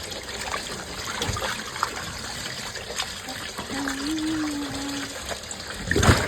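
Water runs and trickles steadily from a tap while fish are washed, with occasional splashes and clatters close by.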